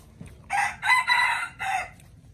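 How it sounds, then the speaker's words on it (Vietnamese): A decoy gamecock crows nearby, a loud, harsh call delivered in three bursts with brief pauses between, clear and close with no one talking. "Đây là con gà mồi nè."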